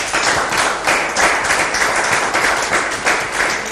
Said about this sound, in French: Je pense que vous pouvez applaudir pour vous-même.